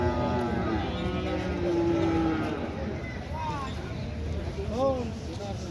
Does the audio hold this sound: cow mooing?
yes